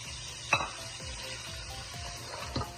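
Onions are added to mutton frying in a pan for dal gosht. A quiet sizzle runs throughout, with a couple of sharp metallic clinks and soft stirring scrapes.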